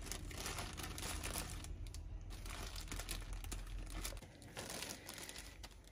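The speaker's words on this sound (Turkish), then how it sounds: "Şunları ben bu şekilde en itinali şekilde şöyle poşetlere dolduracağım." Plastic bags crinkle and rustle continuously as they are carefully filled by hand in a kitchen, with soft scattered crunches and handling noises, close and fairly faint.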